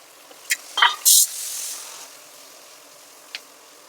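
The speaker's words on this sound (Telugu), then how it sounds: "పోపు వేగిన కదా ముందుగా చాప్ చేసుకున్న ఆనియన్స్, చిల్లీస్ అందులో యాడ్ చేయాలి." Chopped onions and chillies are tossed into hot tempering oil in a pan, with a sharp burst of sizzle and a few clinks of stirring, then a soft fading hiss.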